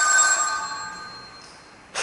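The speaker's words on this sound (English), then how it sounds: "phone still works." An old telephone bell rings in a continuous metallic trill, loud and close at first and slowly fading, with a brief burst again at the very end; no voices.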